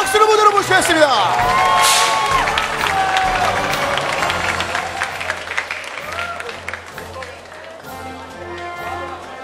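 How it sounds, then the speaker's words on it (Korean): An audience applauds the season winner at the FIFA Online 3 esports championship final, with steady clapping and crowd noise that fade slightly while an announcer talks over it. "여러분 다시 한번 큰 박수로 축하해 주시길 부탁드리겠습니다"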